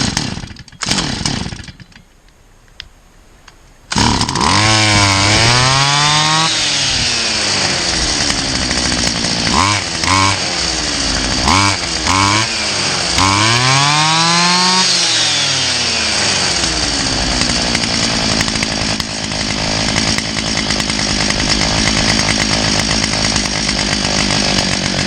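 Stihl FS450 brushcutter under throttle cable and kill switch repair starts after a few pulls, then its two-stroke engine revs up and down repeatedly before settling into a loud, steady run.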